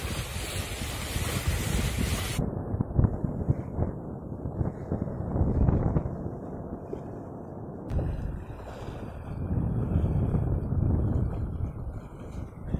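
Sailboat under sail at sea approaching the wild coast of Ibiza, with a continuous rush of wind on the microphone and waves washing against the hull, steady and moderately loud with gusty swells.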